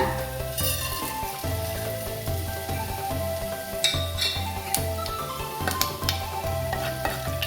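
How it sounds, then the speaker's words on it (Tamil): Mustard, cumin, fennel and fenugreek seeds sizzle steadily in hot sesame oil as a tempering for bitter gourd gravy, with crackling frying noise running continuously over a background of music. "கடுகு, சீரகம், சோம்பு, வெந்தயம் 4 போட்டு தாளிச்சிக்கலாங்க."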